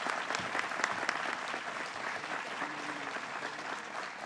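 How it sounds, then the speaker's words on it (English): An audience at a governor's announcement of a studio facility expansion gives a steady round of applause, many hands clapping at moderate distance without pause. "Let's give them a strong round of applause as well."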